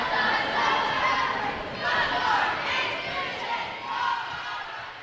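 A girls high school basketball game crowd is picked up loudly by a crowd mic, a dense, steady wash of chatter and shouting that rises and falls in waves.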